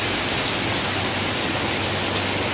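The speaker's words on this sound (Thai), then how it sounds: "ฝนตกช่วงกลางวันนะครับมีเมฆมาก" Heavy daytime rain pours on a cloudy Bangkok side street between Pridi Banomyong 41 and Ekkamai 42, a loud, dense, unbroken hiss with no voices.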